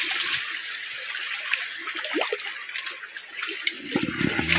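Water rushes continuously through a cleared tunnel gate, a steady, close flowing roar with a few splashes and some faint background noise toward the end.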